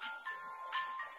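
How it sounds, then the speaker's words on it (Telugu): An incoming-call tone sounds on a phone during an ongoing call: bright, melodic electronic beeps that repeat in short pulses over about a second, fairly steady and with no talking. "మీకు కాల్ వస్తున్నట్టుంది"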